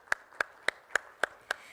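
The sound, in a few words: audience applause for a speaker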